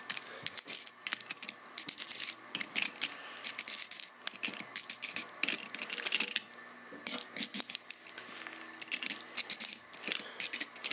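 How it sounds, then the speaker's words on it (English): Black Diamond Express ice screw being cranked into ice by cold hands, a quiet close sequence of rapid metallic clicks and ratcheting scrapes in irregular bursts, with short pauses between turns. "crank this ice screw"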